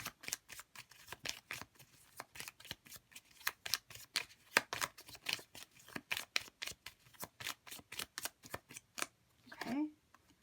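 Tarot cards shuffled close up in a rapid run of crisp riffling snaps and flutters, steady and fairly quiet, with a brief voice near the end.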